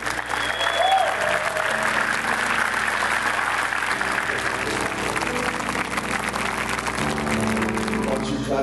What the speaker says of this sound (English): Why don't you clap your hands and give Jesus praise.